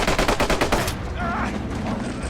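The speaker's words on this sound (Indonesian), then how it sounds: "pasukan Bojes pun langsung memberondolinya dengan tembakan" A rapid burst of machine gun fire from Nazi soldiers in a war film, about a dozen evenly spaced loud shots in the first second, followed by a noisy lingering aftermath.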